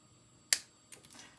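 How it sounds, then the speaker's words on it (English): Cutters snip the metal legs off LED components on a Technics SL-1200 turntable strobe tower: one sharp, loud click followed by two softer clicks a moment apart, close and isolated. "we are going to cut these legs off"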